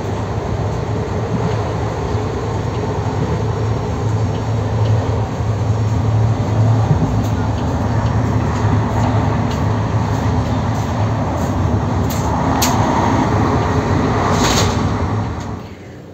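Ganadevta Express pulling out of Sagardighi station, heard from inside an AC three-tier coach: a steady, loud rumble of wheels and carriage running continuously, with a few brief high squeals near the end.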